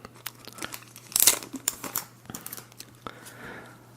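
Crinkling, tearing foil of a Panini Fortnite trading card pack, heard up close and quiet, with one sharper rip near the start and then softer crackles and rustles.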